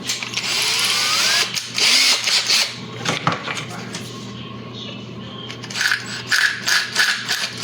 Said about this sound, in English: 1/4 inch drill bit.